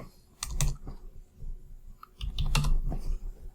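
Scattered keystrokes on a computer keyboard while code is written, a few quick clicks in two short bursts about two seconds apart, close and fairly quiet with no voice.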